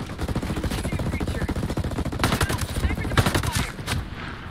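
Heavy automatic gunfire aimed at troops on a hilltop in Rainbow Six Breakpoint, dense rapid bursts with louder overlapping volleys near the middle and end, loud and sustained.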